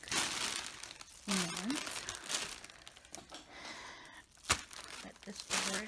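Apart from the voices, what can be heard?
plastic bag crinkling as it is put over a wig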